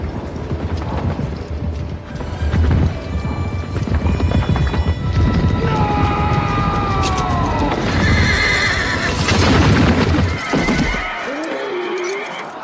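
Cavalry horses in a historical battle film neigh and whinny loudly over the thunder of galloping hooves and clattering battle noise, with a dense, chaotic mix that drops away sharply near the end.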